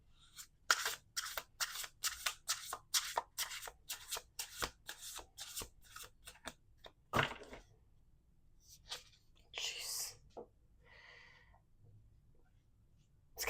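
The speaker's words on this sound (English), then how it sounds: "Okay, one more shuffle." A deck of playing cards is shuffled: a quick series of sharp riffling bursts, close and crisp, followed by a louder riffle and a few softer rustles and slides of the cards.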